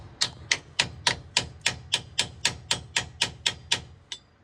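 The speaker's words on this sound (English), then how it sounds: "I'm just chiseling away a little bit of rust" A chisel is struck against rusted brake parts on a 2003 Toyota Tundra, giving a steady run of about fourteen sharp metallic taps at an even rhythm, loud and close, with no talking.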